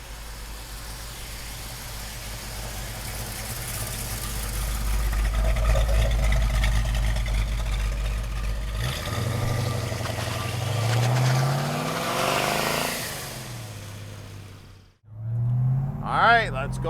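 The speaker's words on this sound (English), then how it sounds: "let's go for a ride in this GT500 recreation. 428 Cobra Jet under the hood, 5-speed Tremec" A 1968 Ford Mustang GT500 recreation with a 428 Cobra Jet V8 and five-speed Tremec manual rumbles low and steady, then revs up through gears with a rising engine note, heard from on board during a drive.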